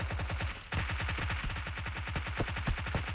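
Rapid automatic gunfire from a shooter game in a clan tournament match, a dense, fast rhythmic burst of shots that continues loud and close for the whole stretch with no talking.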